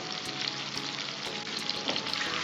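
Tomatoes sautéing with turmeric in a pan for mochai paruppu kulambu make a dense, constant sizzle up close, broken by light stirring scrapes.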